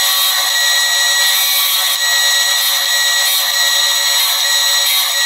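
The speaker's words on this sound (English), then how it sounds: "Now I'm going to take a 3/32 drill bit and do our first set of holes" A 3/32 drill bit bores a row of quarter-inch-spaced holes into the metal burn chamber wall of a homemade turboramjet, giving a steady, loud high-pitched whine that runs continuously without pause.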